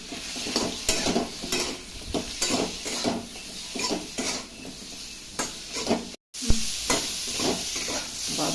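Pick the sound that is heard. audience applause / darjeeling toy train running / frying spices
frying spices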